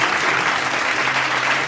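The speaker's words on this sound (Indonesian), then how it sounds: "Tepuk tangan" Children in a sixth-grade class clap together in a short, steady burst of loud, close applause.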